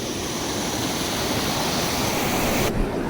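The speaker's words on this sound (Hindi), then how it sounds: "बहते हुए पानी की आवाज़ सुनिए बहुत ध्यान से" River water rushes at the confluence of the Parvati river and the Brahmaganga in Manikaran, a steady, dense and loud roar that fills the whole stretch without pause.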